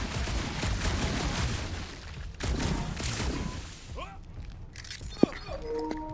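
Gunfire in a Guardians of the Galaxy game played on PS5, with dense bursts of rapid shots and shattering impacts, followed by quieter sci-fi effects and a sharp hit, while voices talk intermittently.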